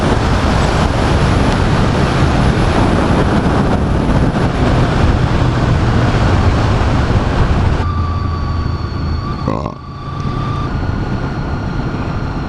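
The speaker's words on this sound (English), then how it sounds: "Got to ride some motorcycle." A steady, loud motorcycle engine roar with heavy wind rush while riding near Turku, dropping slightly near the end before continuing.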